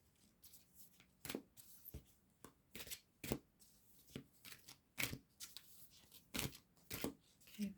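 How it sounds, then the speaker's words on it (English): A deck of tarot cards is shuffled by hand close up in a quiet room, with repeated crisp riffles and flicks in an uneven rhythm and short pauses between bursts. "as I shuffle the cards."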